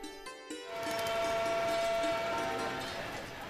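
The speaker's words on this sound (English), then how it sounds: "As we arrive at the railway station" A train rumbles through a railway station near Bharatpur Bird Sanctuary, India, with a sustained horn-like tone, growing louder and then easing off.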